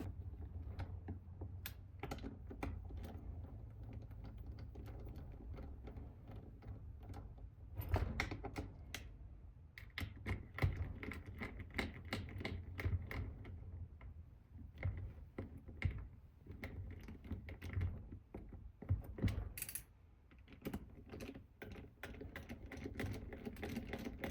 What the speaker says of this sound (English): I'm gonna get a ratchet and then we'll start doing it.